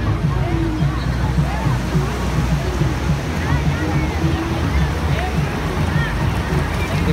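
Sea waves wash steadily onto Baga beach in Goa, a loud continuous rushing surf roar close by, with voices mixed into the noise.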